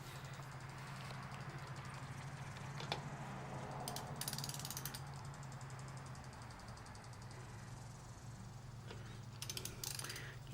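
Socket ratchet wrench clicking on an engine during removal, a quiet, steady rapid ratcheting over a low constant hum, with a few brighter metallic clinks, no talk.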